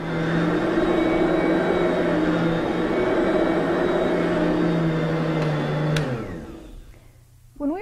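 A Soniclean vacuum cleaner runs with a loud, steady motor whine and airflow roar, then winds down as it is switched off near the end.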